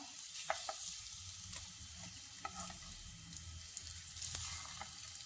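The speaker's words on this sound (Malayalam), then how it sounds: "ഇതെല്ലാം നമുക്കൊന്ന് മറിച്ചിട്ട് കൊടുക്കാം" Banana pieces fry in a pan with a soft, steady sizzle, broken by scattered light clicks and taps as they are flipped one by one. It is quiet and close, with no talking.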